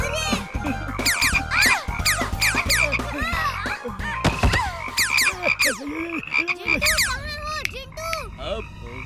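Cartoon frogs croak loudly and repeatedly with bouncy, squeaky rising and falling calls over a busy animated music bed, with occasional childlike voices mixed in.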